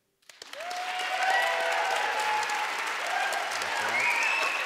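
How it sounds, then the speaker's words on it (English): A debate audience at a Shakespeare festival forum breaks into applause with cheering, starting abruptly after a brief silence and swelling into steady clapping, with whoops and shouted voices rising above it. "ask you through your cheering and applause whether the pro side won this debate"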